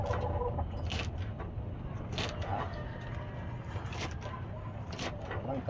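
Chickens cluck and call intermittently over a steady low rumble of background noise, with several short, sharp squawks standing out; someone talks at times alongside the birds.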